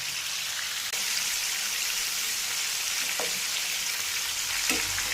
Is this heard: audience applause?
no